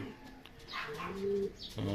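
Racing pigeons coo close at hand, a couple of drawn-out throaty calls with a few higher chirps mixed in, steady and moderately loud with no voices.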